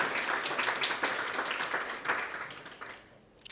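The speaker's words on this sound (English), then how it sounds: "you're allowed to clap" Audience applauding after a talk at a healthcare design service lab event: a steady wash of clapping that holds for about three seconds, then fades out.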